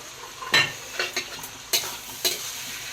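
Mutton fat and chicken keema, cooked with tomato and ground spices, are stirred in a pan. Four or five sharp scraping strokes cut through a low, continuous sizzle.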